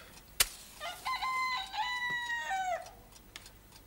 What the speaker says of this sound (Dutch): Zelfs de haan van de buurman wordt er wakker van.